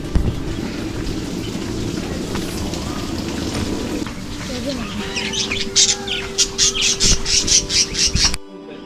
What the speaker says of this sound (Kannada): ಇಲ್ಲಿ ಸಾಕಷ್ಟು ಪಕ್ಷಿಗಳಿದೆ